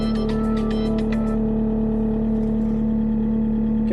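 A Gehl 540 loader's engine fires up with a few sharp clattering bursts at the start, then settles into a steady, loud idle with a constant low hum, heard up close with no talk.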